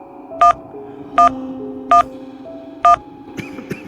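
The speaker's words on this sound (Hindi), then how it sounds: "उस नंबर को डायल किया" Four evenly spaced keypad tones beep as a phone number is dialed, followed by faint clicks and rustling.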